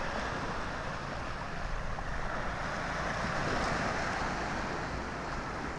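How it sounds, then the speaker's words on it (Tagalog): Choppy sea off Talisay in early-morning darkness during a fishing trip, with waves slapping and rushing around the boat in a constant loud wash, wind buffeting the microphone, and no talking. "Medyo malon-alon."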